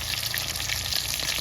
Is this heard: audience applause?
no